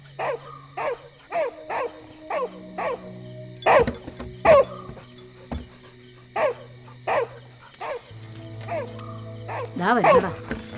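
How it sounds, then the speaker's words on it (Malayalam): A hungry dog barks again and again, sharp close barks spaced about every second, with a few louder bursts and a whimpering yelp near the end, while people talk. "ഫ്രാൻസിസേ, ആ പട്ടിക്ക് വിശന്നിട്ടായിരിക്കും അതെ കുറയ്ക്കുന്നത്."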